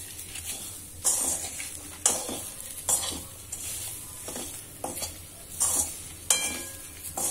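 Chili pieces roasting gently in a pan with asafoetida, giving a soft continuous sizzle broken by repeated stirring scrapes about once a second, close and moderately loud with no talk.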